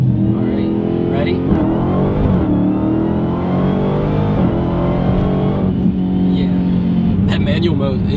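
A Dodge Demon accelerates hard in manual mode, its engine a loud, sustained roar with rising and shifting tones that fills the whole stretch without a break.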